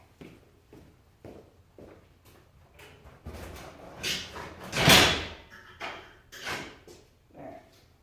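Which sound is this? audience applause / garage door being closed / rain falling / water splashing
garage door being closed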